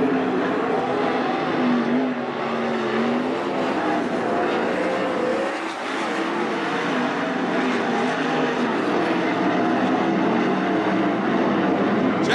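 410 sprint cars race in a heat at Attica Raceway Park, with a dense, continuous engine roar that swells and fades slightly as cars pass, and a track announcer talking over it.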